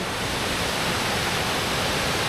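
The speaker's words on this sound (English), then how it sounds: "All right, waterfall 1 of 3." Navajo Falls in Havasupai roars steadily as a broad, continuous rush of falling water, loud and close with no break over the short stretch.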